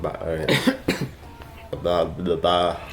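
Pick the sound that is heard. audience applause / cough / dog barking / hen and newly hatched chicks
cough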